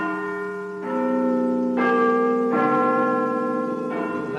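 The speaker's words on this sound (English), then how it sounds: "After the chimes of Big Ben, the national program will be closing down." The Westminster chimes of the Big Ben clock bell in London, a slow sequence of four resonant bell strikes, each ringing on and overlapping the next, heard alone and fairly loud with long sustained tones.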